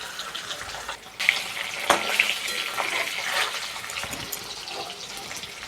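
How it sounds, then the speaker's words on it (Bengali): Eggs fry in hot oil in a pan until browned for an egg and potato curry, giving a steady, loud, close sizzle and crackle with a few sharper pops and no talk. "ডিমগুলোকে ভেজে নেব ভালো করে লাল লাল করে ভেজে নিই"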